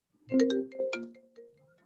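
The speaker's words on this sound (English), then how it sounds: "Answer that phone." A phone ringtone sounds during a real estate listing presentation: a short, bright melodic tune of a few quick tonal notes, fairly close and clear, with no one talking over it.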